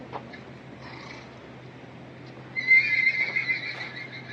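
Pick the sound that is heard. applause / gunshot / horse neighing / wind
horse neighing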